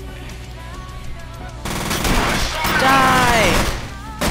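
Sustained machine-gun fire in the F.E.A.R. video game, with rapid loud bursts growing denser through the second half while someone shouts briefly.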